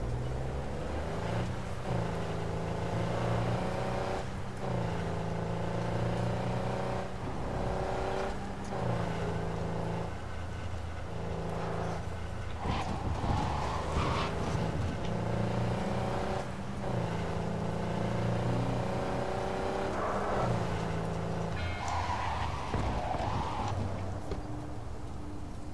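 Car driving in Cyberpunk 2077: a steady engine drone with shifting tones and revs, loud and continuous, with game sounds layered over it throughout.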